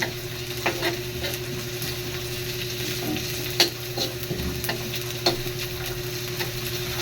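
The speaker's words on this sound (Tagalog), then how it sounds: "gisa-gisahin lang guys. Ayan, hanggang sa mag-brown siya" Garlic sautés in a pan for a liver and gizzard adobo, giving a steady sizzle broken by the scrape and clack of a spatula stirring.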